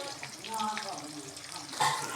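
Onion frying in a pan for kebab gravy gives a steady sizzle with occasional stirring scrapes, close and continuous, with a brief louder burst near the end.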